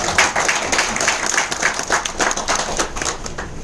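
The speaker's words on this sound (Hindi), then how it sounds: "तेजस भाई के लिए जोरदार तालियां" A crowd at a business presentation event claps for Tejas bhai, giving a short burst of dense, steady applause close to the microphone.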